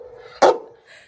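A single sharp dog bark, close and loud, standing out briefly from a quiet indoor room during unpacking.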